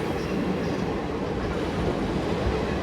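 A Visakhapatnam–Palasa passenger train rolls by at close range, a continuous loud rumble of wagons with soft clickety-clack and no voices.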